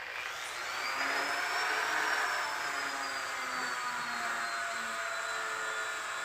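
A Dremel rotary tool whines steadily at high pitch, its tone rising slightly then easing down, while used on a taxidermy fish eye project indoors; no voices.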